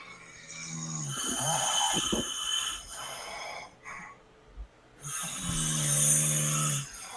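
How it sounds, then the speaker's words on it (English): Three people snore together in a dark room, long rasping, rumbling snores that overlap and swell, broken by short pauses and a snort, fairly close and loud. "There's 3 people just snoring away and all like in unison"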